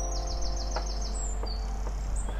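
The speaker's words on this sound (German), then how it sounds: "Vogelgesang und Wind in den Bäumen." Repeated high chirping bird calls in a quick series, with a few brief clicks, over a constant low hum.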